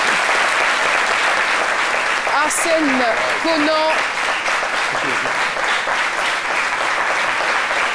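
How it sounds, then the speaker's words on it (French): An audience breaks into sustained, loud applause while a voice briefly speaks a name near the start, the clapping steady and full underneath. "Merci de l'applaudir bien fort."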